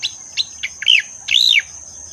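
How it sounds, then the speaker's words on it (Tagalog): A small bird sings a string of bright morning chirps on a farm, followed by two longer, sweeping whistled notes, close and clear against a quiet background. "Napakaganda pakinggan ng kanyang huni sa umagang ganito."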